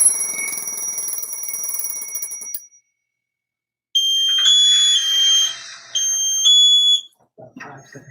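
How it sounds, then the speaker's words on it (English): An SCBA breathing apparatus low-pressure alarm sounds in a firefighter training session, a loud, shrill electronic warble that runs for a few seconds, falls silent, then returns as a pulsing multi-tone beeping before cutting out. "There's a low pressure alarm."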